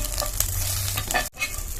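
Cumin, green chili, garlic and peanuts fry and sizzle in hot oil while being stirred, a loud, close, steady crackle with scraping strokes and a brief break in the sound partway through.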